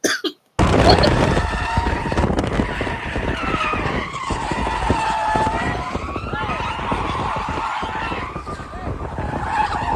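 A car skids and scrapes loudly across pavement while being pushed, a continuous harsh grinding with tire squeal, close and sustained under occasional voices.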